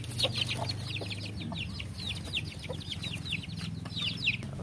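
Caged chickens cluck in a busy chorus of rapid, repeated calls, fairly close and moderately loud, with low background noise and no talking.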